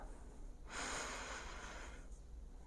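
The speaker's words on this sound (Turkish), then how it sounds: "10 derin nefes alıyoruz burada." A single slow, deep breath during a guided meditation, soft and close, rising and then fading over about a second and a half against a quiet background.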